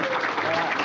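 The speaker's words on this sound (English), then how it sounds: "I hope you can hear that applause in the background." About 130 Texas students applaud in the background of a long-distance call, a steady, slightly distant burst of clapping with speech faintly mixed in.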